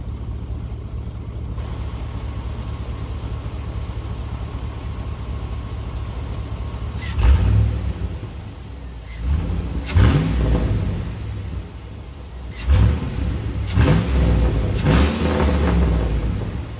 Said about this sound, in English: Hopefully y'all can hear the intakes.